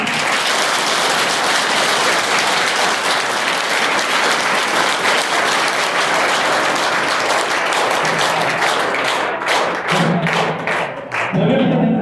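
Students in a school hall applauding loudly for frontline health workers, dense sustained clapping for about ten seconds before it thins into scattered individual claps.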